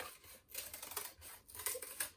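Scissors cut through cardboard in short repeated snips with brief pauses between them. The sound is quiet and close, with no talking.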